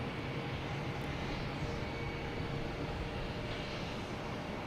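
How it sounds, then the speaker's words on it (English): Airliner at Boston Logan Airport, a steady broadband jet roar filling the air, fairly distant and constant throughout, with no talking. "We have a 787 coming in here."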